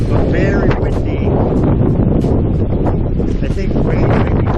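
Strong, gusty wind roars and buffets the microphone while kayaking through flooded beaver-dam wilderness in Michigan, loud and continuous with no break.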